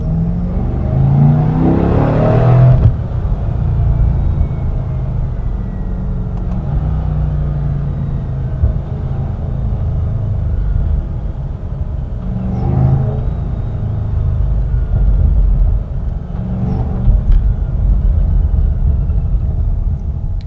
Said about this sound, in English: love those little grumbles you get when you downshift